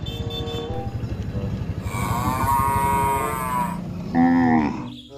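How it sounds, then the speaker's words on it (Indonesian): A cow gives a long, drawn-out moo close by, followed by a shorter second moo, with a low rumbling background beneath and no speech. "ada seekor sapi."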